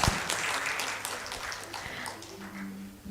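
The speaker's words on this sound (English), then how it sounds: "Put your hands together and welcome our chief guest, Mr. Palbe Girish Hari Babu, IFS, onto the stage with a round of applause" A conference audience at a sustainable energy forum claps to welcome the chief guest onto the stage, a brief, fairly soft burst of applause that thins out with a faint tone underneath.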